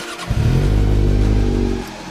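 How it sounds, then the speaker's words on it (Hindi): A 2024 Kawasaki ZX-6R with an aftermarket exhaust revs sharply and loudly close by with a deep, throaty exhaust roar, holding briefly before dropping back to idle. "तो काफ़ी लाउड एग्जॉस्ट है ये"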